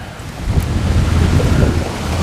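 Strong wind roars steadily and buffets close by, a continuous low rumble with no pauses.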